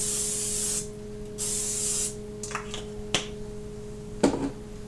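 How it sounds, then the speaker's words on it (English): Two short bursts of cooking spray hiss from a can onto French bread dough, followed by a few light clicks and taps of handling. "I will spray some cooking spray on here."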